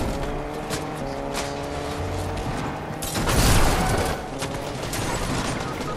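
Players shooting in Fortnite during a trick-or-treat challenge: a loud, close burst of rapid gunfire swells midway over steady mechanical game noise, then tapers into lighter distant shots.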